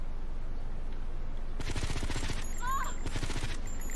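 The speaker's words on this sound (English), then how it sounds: "What were you guys shooting at?" Gunfire in the video game GTA Vice City rattles out as two rapid automatic bursts over a steady background hum, moderately loud and mixed with brief game sound effects.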